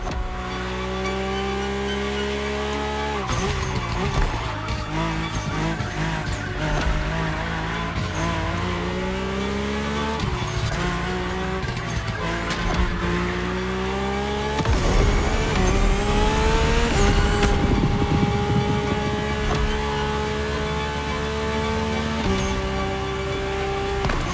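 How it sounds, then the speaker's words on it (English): Formula One-derived road hypercar racing in The Crew Motorfest, its high-revving engine screaming loud and close through repeated gear shifts, with rising and falling pitch sweeps, tire squeal and skids, no talk. "this car screams Formula One"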